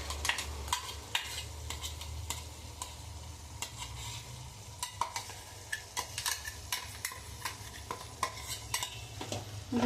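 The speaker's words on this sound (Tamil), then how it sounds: "இதையும் சேர்த்து ஒரு கிளறி விட்டுட்டு" Ground spice paste being stirred into frying mutton for a South Indian gravy: a quiet, close sizzle under frequent scraping and tapping of a spoon against the pan, with no voices.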